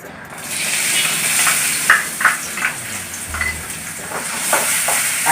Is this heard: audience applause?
no